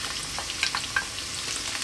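Onion goes into a hot pan with browning garlic over above-medium heat, giving a steady, soft sizzle and crackle with a few brief pops as it is stirred.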